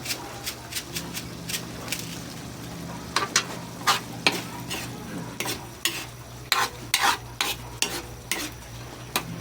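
Fried ground meat with softened vegetables and seasoning is stirred in a pan, bringing repeated sharp scrapes and clacks of a utensil over a low, steady sizzle.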